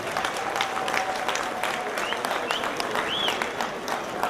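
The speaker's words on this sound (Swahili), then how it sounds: "Jipigieni makofi nyinyi wenyewe" A crowd applauds at a 2013 Madaraka Day gathering, a steady wash of clapping with scattered whistles and cries sustained throughout, while voices murmur underneath.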